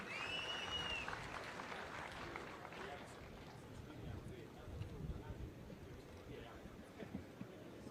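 Applause at the Eldoret city conferment ceremony, a faint, distant wash of clapping from an outdoor crowd, muffled and blended with wind and background noise.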